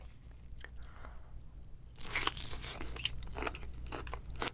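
Spicy tiger shrimp and lobster from a seafood boil being eaten up close, with faint crunchy bites and soft chewing clicks against a quiet background hum, the crunch growing a little louder midway.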